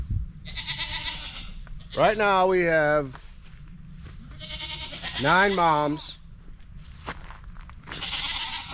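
Goats on a homestead bleating, two loud wavering cries close by, with someone talking between and around them.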